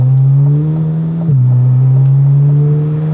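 A Corvette C8 Z06 with a full titanium exhaust cruises in Tour mode at low revs, a loud, steady low drone that dips briefly as it shifts, then settles back into an even hum; no talking.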